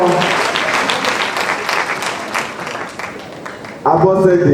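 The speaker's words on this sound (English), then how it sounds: "Give her a round of applause." Audience applause at a university ceremony admitting fresh students, a steady dense clatter of clapping lasting throughout, with a voice speaking over it near the end.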